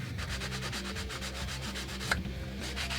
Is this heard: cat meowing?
no